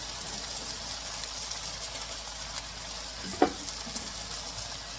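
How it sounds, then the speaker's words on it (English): Carrot and celery sizzle and fry in a hot pan for a beef stir-fry, with a steady crackling hiss and one sharp clink of a utensil partway through. "I'm going to add in my vegetable, carrot and celery"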